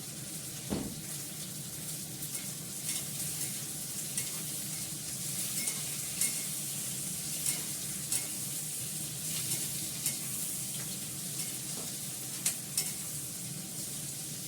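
Eggplant frying in a pan, a steady low sizzle running throughout with occasional soft clinks and stirring scrapes, fairly quiet and even with no talking.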